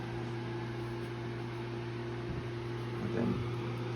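A Trustech ceramic space heater runs with its oscillating fan on, giving a steady low hum and airy hiss. A couple of faint clicks sound near the end, with no talking.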